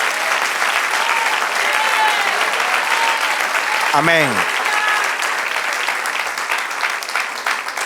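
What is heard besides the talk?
congregation applause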